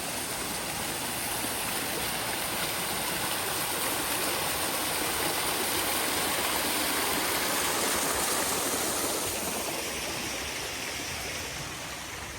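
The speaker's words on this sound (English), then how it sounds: "So this is where the water's coming from, where this big pond running down the step to." Water spills down steps from a big pond in a steady, hissing rush, constant and moderately near, with no talk over it.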